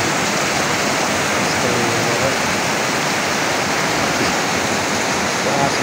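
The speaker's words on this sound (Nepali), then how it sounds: "मुनि खोला बगिरहेको छ" Steady rushing roar of a river flowing below among tall hills, loud and continuous throughout with no voices over it.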